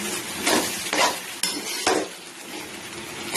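Ground cumin, coriander and salt are stirred in a hot frying pan. Several quick scraping strokes of a utensil against the pan sound close and clear over a faint sizzle, with no voices.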